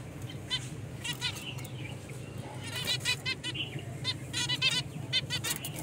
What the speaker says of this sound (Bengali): এই হলো আমার তিন জোড়া ফিঞ্চ পাখির সেট আপ।